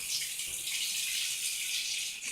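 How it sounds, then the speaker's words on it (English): Tap water runs steadily into a container, a constant hissing rush at moderate loudness with no other sounds. "And now I'm going to just fill it with water."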